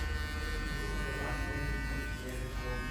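An electric hair clipper cutting a man's hair with the corner of its blade, a loud continuous close buzz that holds steady throughout with no pauses.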